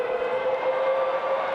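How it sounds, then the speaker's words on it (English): Full-time siren sounding at a rugby stadium during an All Blacks versus Fiji test match, one sustained steady wailing tone, loud and continuous over crowd noise. "So there goes the siren."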